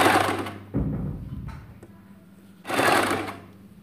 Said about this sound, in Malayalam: അപ്പുറത്തെ ലെഗ് വരെയും തയ്ക്കുക.